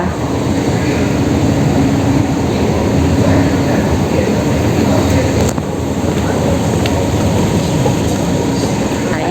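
A loud, steady rumble of a subway train running in Bangkok, with continuous rail noise and clatter throughout and a brief dip midway.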